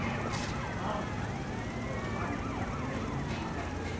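Several police car sirens wail and overlap in a chase scene from the game GTA Vice City, with engine rumble beneath and a voice talking over them.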